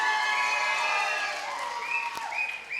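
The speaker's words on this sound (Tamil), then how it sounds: "மதுரை முத்து சாரோட ரசிகர்கள் எத்தனை பேர் கைத்தட்டு கொடுங்க பார்க்கலாம்" Audience applause at a live Tamil comedy stage show, a broad wash of clapping and crowd noise sustained for a few seconds, fairly loud and close, with no talk over it.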